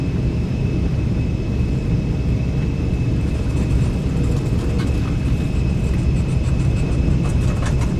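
Embraer E190 jet engines spooling at takeoff thrust in X-Plane 12, a steady loud broadband roar with a constant whine, building slightly toward the end.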